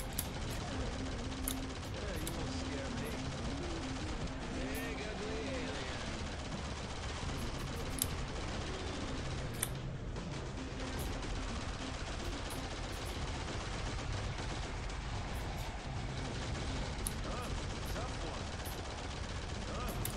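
Gunfire rattles in Shadowgun Legends as players shoot the Blade Dancer in a co-op dungeon, dense continuous bursts with sharp shots scattered over a busy game mix.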